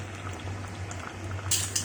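A pot of vegetables for curry, with green tomato, jackfruit seeds and sliced onion, simmers with a low, steady bubbling hum, faint and continuous, and a few brighter clinks near the end.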